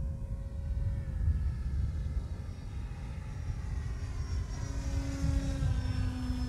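A radio-controlled model airplane drones overhead in steady low passes on a windy flying field, its engine note holding and shifting slightly in pitch over wind rumble; moderately loud and continuous, with no speech.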